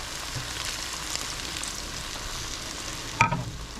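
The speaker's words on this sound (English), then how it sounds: "Now we're going to add in the wine" Chicken and mushrooms sizzle steadily in a hot pan, a constant broadband frying hiss that holds throughout. Near the end a brief louder splash and crackle rises as wine is poured in.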